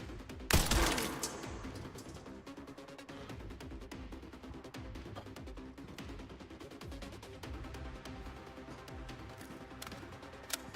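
Gunfire in the video game REquiem, one loud burst near the start followed by a continuous crackle of scattered shots, fairly faint and unbroken, with no talk.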